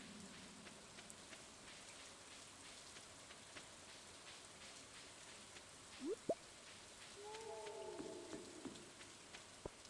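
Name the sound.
rain falling in the video game Stardew Valley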